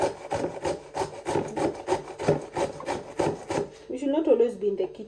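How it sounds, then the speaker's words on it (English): Cucumber is grated by hand for tzatziki in a rapid series of close, rhythmic rasping strokes, about a dozen scrapes in quick succession before stopping, followed by softer handling noise. "let's grate some cucumber"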